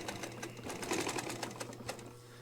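Juki sewing machine set up for upholstery work, stitching in a steady rapid rhythm with a constant low motor hum and repeated needle clicks, close and moderately loud, no talking.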